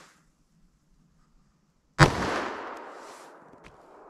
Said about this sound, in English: now MDF, just our gut shot. See what we get with our 357 mag.